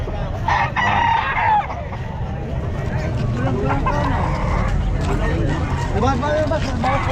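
At a pet market in Calumpit, a rooster crows loudly and repeatedly amid clucking fowl, with people talking nearby over a steady low rumble of engine or outdoor noise.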